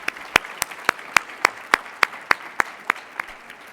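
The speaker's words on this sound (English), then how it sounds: "Can we give our panelists one more round of applause" An audience applauds conference panelists at the opening plenary of an international LGBTQ leaders conference, though the claps come as a single clear, evenly spaced rhythmic clapping, about a dozen sharp claps at a steady pace, fairly quiet and without voices.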